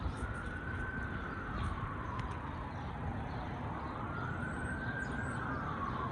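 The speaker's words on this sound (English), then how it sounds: "And of course there's sirens screaming." Emergency vehicle sirens wail in slow rising and falling sweeps over a constant rumble of city traffic, heard from a moderate distance.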